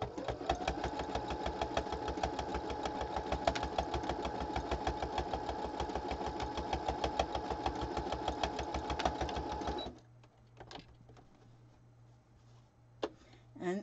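A sewing machine runs steadily for about ten seconds, working a serpentine stitch with a fast, even mechanical clatter, then stops, leaving a low hum and a few faint handling clicks.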